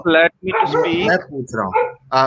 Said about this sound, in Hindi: किसी के वहां से कुत्ता भौंक रहा है